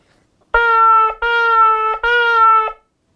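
A voice imitates a shofar with three broken, buzzing blasts in quick succession, each held about half a second, loud and close.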